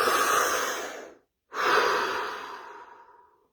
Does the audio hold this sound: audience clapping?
no